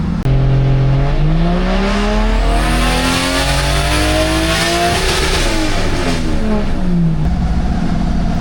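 A Toyota MkII with a turbocharged 1JZ engine running 10 pounds of boost, revving hard on a dyno. Loud and close, the engine climbs through sweeping rising pitches, shifts, and climbs again, with no voices over it.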